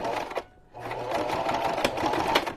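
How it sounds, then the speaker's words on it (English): A basic home sewing machine stitches in a steady, fast whirring run, with a short pause near the start before the motor picks up again and continues loudly to the end. "So it's not a fancy sewing machine."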